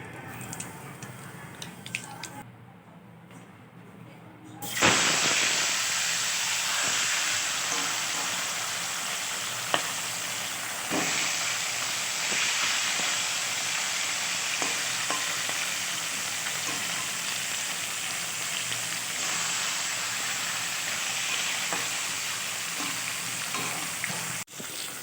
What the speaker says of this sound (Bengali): এর মধ্যে একটু হলুদ দিয়ে আমি মাছটাকে ভাজবো